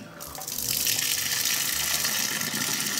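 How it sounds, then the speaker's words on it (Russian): Twenty liters of water poured onto wheat grain for a homemade moonshine mash, a loud steady gushing splash that starts after a brief moment and runs on continuously close by. "И заливаем крупу 20 литрами."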